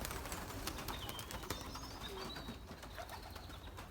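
Belgian racing pigeons on a loft coo softly against a steady background hiss, the calls faint and scattered across the few seconds.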